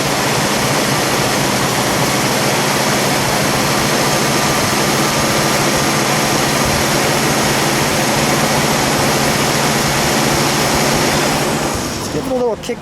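The 390 engine of a black 1967 Mercury Cougar GT hardtop with a four-speed runs at a loud, steady, rushing roar near a high idle, then cuts off abruptly near the end.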